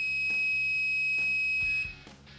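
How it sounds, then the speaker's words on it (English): A security system's alarm buzzer sounds a steady high electronic tone with a few short pulses, close and clear, cutting off abruptly near the end. "a buzzer will sound an alarm"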